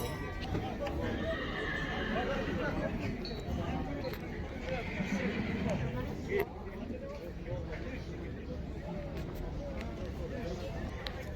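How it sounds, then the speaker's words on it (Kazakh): Horses at a Karabulak livestock market, where a young male colt is for sale, with hooves clopping and occasional whinnies under steady nearby talk and crowd noise. "Еркек тай екен."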